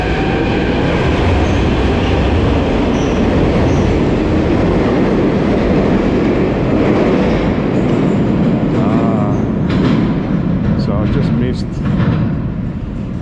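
Metro train at Arsenalna station in Kyiv, its steady loud rumble and rolling roar filling the platform throughout, with faint squeals and clatter near the end.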